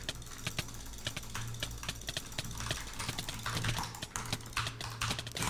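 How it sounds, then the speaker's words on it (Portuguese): Rapid, uneven clicking of keys on a computer keyboard, close and steady, with no talking. "Meu teclado."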